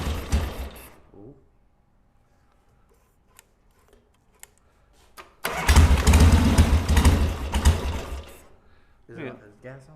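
A barn-find Harley-Davidson Ironhead motorcycle, idle for 25 years, cranks and catches with a loud rough burst of engine noise that runs for a few seconds, then drops away; voices talk before and after.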